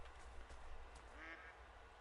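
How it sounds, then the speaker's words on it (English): Pintail ducks call faintly in a hunting video game, soft distant quacks and whistles over a low ambient rumble. "I think those are pintails."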